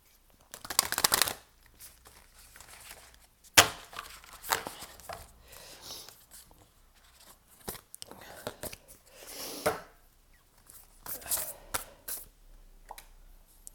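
Oracle cards being shuffled by hand at a tarot reading, soft papery riffles and flicks in irregular bursts, close and fairly quiet, with occasional faint breaths or whispers between them.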